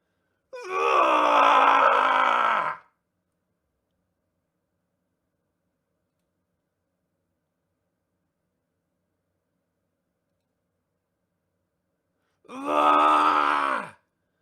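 Slaves screaming and dying as a dark audio drama effect: two loud, anguished wailing screams of about two seconds each, separated by a long stretch of silence.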